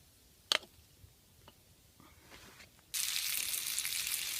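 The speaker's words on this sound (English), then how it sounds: "I'm going to start with the potatoes. Let them cook up a little bit" Potatoes frying in a 1940s steel Boy Scout mess kit, a few faint clicks and taps and then a sudden steady hiss of sizzling that continues to the end, close and moderately quiet.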